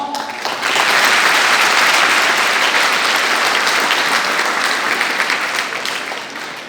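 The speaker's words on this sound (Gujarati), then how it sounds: "તાળી પાડો." Sustained audience applause fills a school hall, rising quickly to a dense, loud wash of many hands clapping and holding steady before tapering slightly at the end, with no talking over it.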